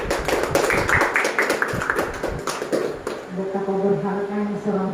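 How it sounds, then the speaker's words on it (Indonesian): An audience bursts into dense hand-clapping during a school mentoring session at SMAN 1 Wawotobi, then the applause fades as a voice and tonal background sound take over. "mari kita tepuk tangan."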